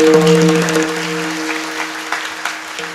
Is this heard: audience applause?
yes